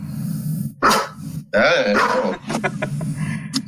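A dog barks and growls close by in several loud, gruff bursts, with low grumbling between them and a person speaking briefly.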